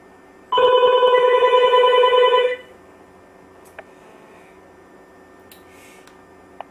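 A home landline telephone rings loudly in one sustained electronic trill of about two seconds, answering an incoming call from an unlocked iPhone on T-Mobile, followed by a quiet room with faint ticks.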